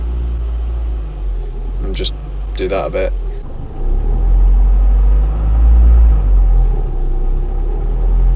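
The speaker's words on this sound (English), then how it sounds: "I'm just going to record some driving sounds really, so like the engine rumbling from inside the car" Car engine rumbling low and steady from inside the vehicle as the gas pedal is pressed, swelling louder in the second half, with brief speech and a few clicks early on.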